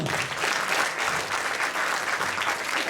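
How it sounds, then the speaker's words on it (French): A short burst of steady audience applause from a theater crowd of around 250 people, even and fairly distant throughout. "On peut applaudir, madame."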